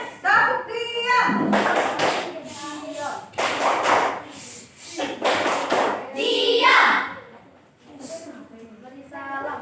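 A classroom of children performing the tepuk diam clapping routine, chanting in unison with bursts of rhythmic hand claps and slaps in short patterned groups, loud and close, the voices and claps interwoven throughout.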